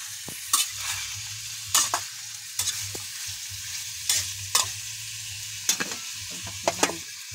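Food sizzles steadily in hot oil while someone stirs it, with a low continuous fry broken by repeated scraping clatters of the utensil against the pan, close by and with no talking.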